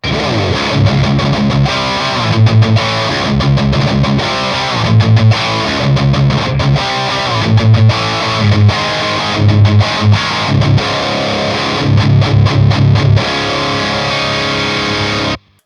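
Tight, heavily distorted electric guitar chugging palm-muted rhythms, loud and continuous with no voices, ending abruptly.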